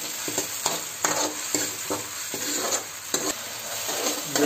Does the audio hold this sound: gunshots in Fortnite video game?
no